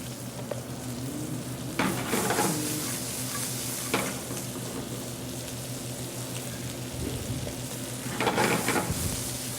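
Bacon and mirepoix for a chowder fry steadily in a pot, a continuous close sizzle broken by a few louder stirring scrapes and clatters.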